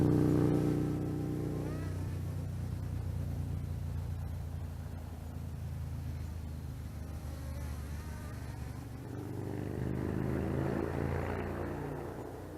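An MJX Bugs 6 quadcopter drone in flight, its motors giving a continuous buzzing whine that drifts in pitch and loudness as it climbs and moves, fairly close, with no talk.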